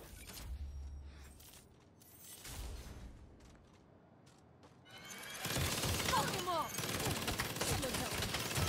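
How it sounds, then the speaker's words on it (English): Rapid minigun fire from Saints Row, a dense continuous roar of gunfire that builds in the second half, with game sounds and sparse voices earlier in the clip. "That is a fucking minigun."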